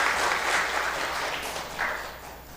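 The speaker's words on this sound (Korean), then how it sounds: "우리 박수로 격려하시고 들어가시면 되겠습니다" Members of a Sunday church service congregation give brief, encouraging applause: a soft, even wash of many hands clapping that fades slightly toward the end.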